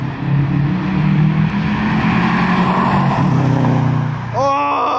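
Subaru WRX with a Greddy Ti-C exhaust holding a steady loud low drone at launch control, then a sharp rising rev near the end, close up.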